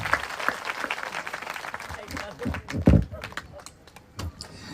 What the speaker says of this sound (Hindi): एक अच्छी ताली हो जाए प्रभु के लिए, जोर से।